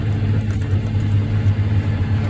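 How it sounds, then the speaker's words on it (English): A loud, steady engine rumble from a nearby tractor during spring tillage, idling and revving slightly without pause. "Where's the loud road tractor?"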